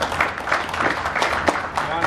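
Applause from an audience at a company budget launch event, a dense wash of clapping with a speaking voice mixed in over it.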